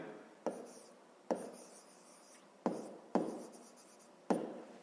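A pen writes on paper in short strokes, each starting with a sharp tap and then scratching briefly, about five of them in a row, close and quiet.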